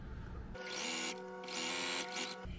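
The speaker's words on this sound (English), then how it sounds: "So I'm going to sew those two together as well." A sewing machine stitching two quilted fabric pieces together for a chunky needle book cover, running in two close, steady whirring bursts with a short pause between them.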